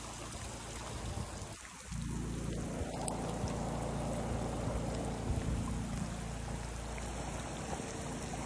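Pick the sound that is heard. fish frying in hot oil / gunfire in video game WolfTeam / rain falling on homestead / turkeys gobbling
rain falling on homestead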